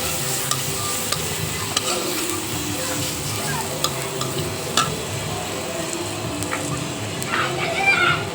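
Bitter gourd frying in a pan while chili, turmeric and coriander powder are stirred in: a constant close sizzle with scraping spoon strokes and occasional clicks, no talking.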